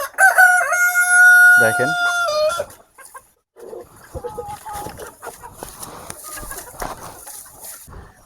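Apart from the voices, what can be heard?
native chickens crowing and clucking on a farm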